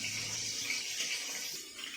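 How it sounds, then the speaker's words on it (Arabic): Tap water runs steadily into a home kitchen sink while dishes are washed. The flow is close and continuous, with a soft hiss and no voices. "ابقى اغسل انا كميه المواعين اللي انتم شايفينها معايا دي"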